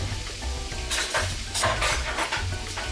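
Ingredients with red wine vinegar and tomatoes being stirred together in a pan, a spoon scraping and clinking against the metal in quick repeated strokes over a soft sizzle, close and fairly loud.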